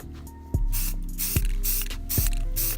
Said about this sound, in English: today we're gonna spray paint the wing, or part of the wing, with this metallic gray